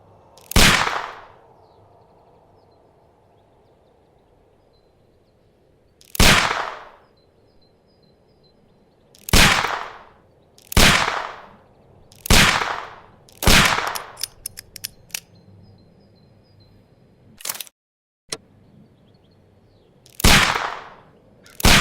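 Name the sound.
pistol shots fired at a package, from video game Sherlock Holmes: Crimes and Punishments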